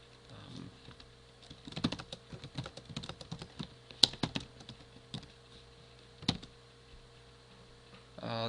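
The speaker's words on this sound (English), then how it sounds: "Just type in the text area." Irregular clicking of computer keys as a message is typed into a chat text area, close and quiet, with bursts of taps separated by short pauses and a faint steady hum underneath.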